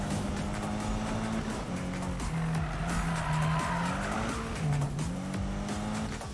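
In Need for Speed 2015, a car drifts through a corner with loud, sustained tire squeal over a revving engine whose pitch shifts through the slide.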